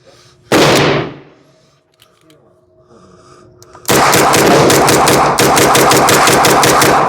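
A Military Armament Corporation Mac 5 fires a loud shot, then after a pause unleashes a sustained rapid string of close, cracking shots in a near-continuous mag dump lasting several seconds.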